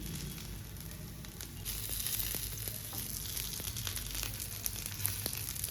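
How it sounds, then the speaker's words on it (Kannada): A homemade McDonald's-style burger patty fries in oil over a low flame, giving a steady close sizzle and crackle with a few faint scrapes, no voices. "ಮೇಲೆ ಸ್ವಲ್ಪ ಎಣ್ಣೆ, ಸ್ವಲ್ಪ ಲೋ ಫ್ಲೇಮಲ್ಲಿ ಬೇಯಿಸಿದ್ರೆ ಕ್ರಿಸ್ಪಿ ಆಗುತ್ತೆ"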